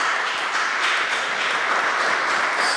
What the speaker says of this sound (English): I don't know if you can hear them clapping, but they're clapping for you